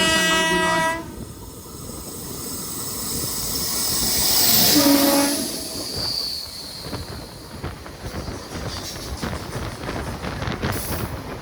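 An Intercity train nearing Thiruvananthapuram Pettah blasts a loud horn, then rumbles and hisses past close by, with a second horn note partway through and steady rolling wheel noise after.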